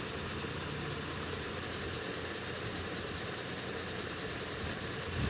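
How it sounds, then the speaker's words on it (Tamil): Train pulling out of Manmad Junction station, heard as a faint, steady rumble and hiss with a low hum throughout. "இப்போ மான்மேட் ஜங்ஷன்லேருந்து ட்ரெயின் மூவாக போகுது, மூவாயிடுச்சு"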